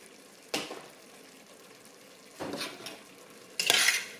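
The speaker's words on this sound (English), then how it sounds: "Let's stir all that in good." Spoon stirring chili with chili powder in a pot, three separate bursts of scraping and clinking against the pot, close, with quiet gaps between.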